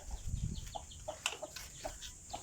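A chicken on a farm in Tarlac clucks in short, scattered calls at a moderate distance, with faint background noise and no talking.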